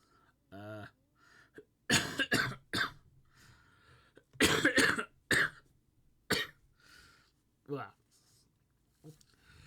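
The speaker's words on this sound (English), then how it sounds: "I still got quite a bit of a cough and cold, as you can tell" A man with a cold coughs repeatedly in bursts of two or three harsh, close coughs separated by quiet pauses, with a throat clear near the end.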